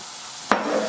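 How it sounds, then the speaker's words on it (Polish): Bacon sizzling in a frying pan for stuffed young-cabbage rolls, a steady bright hiss with a sharp clatter of the pan midway and a softer knock at the end, close and loud. "O, daję tutaj na patelnię, on się będzie mi podsmażał."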